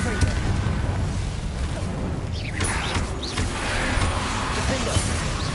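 Blasting explosion of the Confringo fire spell in the Hogwarts Legacy video game on PS5, a dense, loud roaring burst that fills the clip alongside other spell effects.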